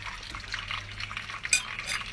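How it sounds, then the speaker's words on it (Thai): Bread dipped and pressed into melted butter in a pot makes soft, wet dabbing and stirring noises with light clinks of kitchenware, a gentle sizzle, and no voices. "เอาขนมปังใส่ลงไปในหม้อแบบนี้ เอาไปจุ่มกับเนยนะคะจุ่มกับเนย"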